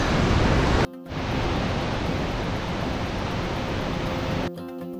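Kegon Falls in Nikko, Japan, pours as a dense, steady roar of falling water, loud and close, broken by two short near-silent gaps.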